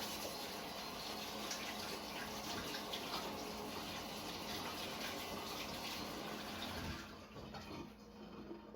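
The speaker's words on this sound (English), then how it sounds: "Hand wash here." Hands being washed under a running kitchen tap, a steady close gush of water that continues for several seconds and then lightens slightly near the end.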